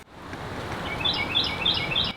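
A bird chirps in quick, high repeated tweets over a soft background hiss, several bright calls in a short run, fairly close with no talk.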